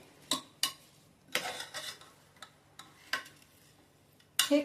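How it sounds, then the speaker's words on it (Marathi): A spoon scrapes and taps around a pan while masoor rice pulao with sautéed onion, tomato and spices is mixed over low flame, giving irregular close clicks and scrapes with no talk. "तांदूळ घातल्यानंतर सगळं व्यवस्थित मिक्स करून घ्यायचे"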